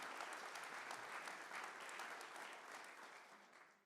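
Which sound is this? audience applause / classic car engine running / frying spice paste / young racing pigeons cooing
audience applause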